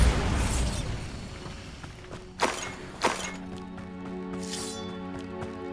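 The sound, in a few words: Bombarda spell blast shattering objects, Hogwarts Legacy video game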